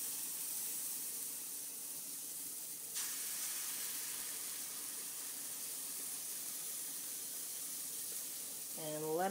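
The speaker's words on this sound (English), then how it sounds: "we're going to put that right onto the griddle" Grain-free tortilla batter sizzles faintly on a hot griddle, a steady soft hiss with steamy crackle continuing throughout, quiet and close with no talk.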